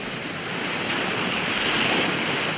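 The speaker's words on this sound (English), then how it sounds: "You like the sound of the ocean?" Ocean surf rolls in a steady broad wash of noise, waves breaking and hissing continuously without a clear gap, moderately loud and alone.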